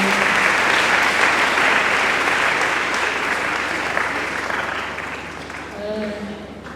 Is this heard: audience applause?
yes